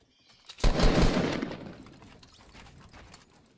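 Gunfire in a Fortnite building fight: a sharp close burst of rapid shots that fades into a trailing echo, with little else around it.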